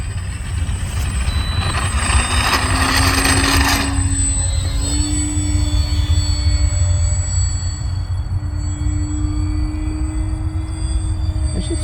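FMS Ranger V2 1220mm RC plane taking off and flying, its electric motor a steady high whine that rises in pitch, with a louder broadband burst early on and continuous outdoor noise throughout.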